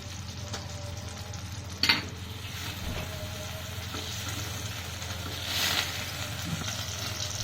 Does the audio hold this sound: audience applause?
no